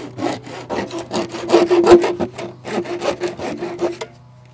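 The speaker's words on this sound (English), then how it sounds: "I'm going to cut myself three foot sections here" A hand saw cuts three-foot sections of material for a vertical hanging strawberry tower, close and loud, with a steady back-and-forth rhythm of about a dozen rasping strokes before stopping.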